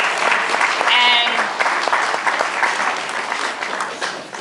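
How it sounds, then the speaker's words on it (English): Audience applause fills a film festival shorts-program Q&A at Sundance 2010, a dense sustained clapping with cheers and voices mixed in, loud and steady before easing slightly toward the end. "Big round of applause."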